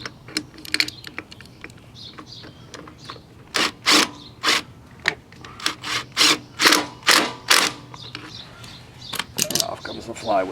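Flywheel of a 1970 Honda CT70 being drawn off with a puller tool: a run of sharp close metallic clicks and knocks in uneven rhythm, some louder than others, with faint background noise.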